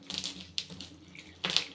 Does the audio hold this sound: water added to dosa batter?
yes